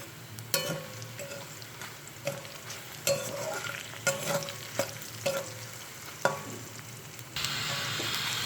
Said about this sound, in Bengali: পেঁয়াজটা আমি হালকা ব্রাউন করে ভেজে নিয়েছি।